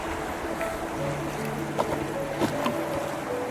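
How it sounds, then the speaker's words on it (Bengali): Strong river current swirling under a rocking boat in Ledo, Assam, a faint continuous watery rush with a few small knocks and splashes, no talk. "এখানে জলের স্রোত সব থেকে বেশি"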